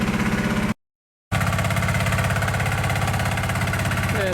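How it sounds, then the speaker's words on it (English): A site dumper's diesel engine runs steadily close by, a rough, throbbing mid-low idle with constant vibration that cuts out abruptly for a moment, then returns with the same even chug. "just bringing the first dumper load in"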